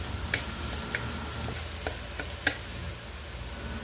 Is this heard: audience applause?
no